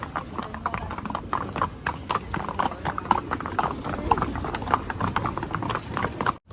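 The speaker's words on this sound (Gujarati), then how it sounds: "આગળ ઘોડામાં જાય છે આનંદભાઈ" Steady clip-clop of horse hooves on a hard surface during a horse ride in Matheran, a quick regular rhythm throughout, loud and close.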